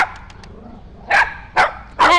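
A dog gives three loud, close barks in quick succession after a few faint yips, with brief pauses between each bark.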